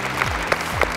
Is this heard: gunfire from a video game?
no